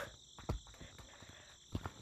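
Steady night-time cricket chirring in Gorilla Tag fills the background, with a couple of soft thumps and footstep-like knocks breaking in.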